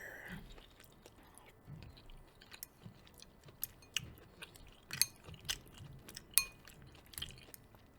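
Close, quiet chewing of homemade chili with chickpeas, with soft wet mastication and occasional sharper clicks and crunches from the mouth, in irregular bursts against near silence.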